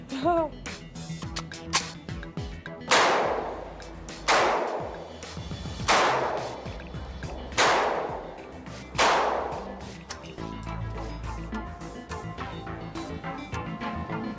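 An Uzi submachine gun fires a series of loud, sharp shots at a shooting range in Johannesburg, spaced roughly one to two seconds apart, each followed by a short decay.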